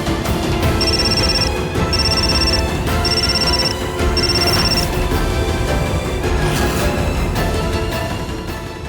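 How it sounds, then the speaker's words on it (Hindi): A telephone rings in four evenly spaced electronic bursts over a loud, busy musical background in an indoor domestic scene. "किसका फोन है?"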